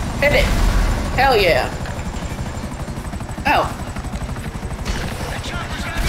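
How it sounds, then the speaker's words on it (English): Helicopter in Grand Theft Auto V, a steady loud rotor chop throbbing throughout under game sound effects, with brief voice exclamations over it. "The chopper's gonna be in sight"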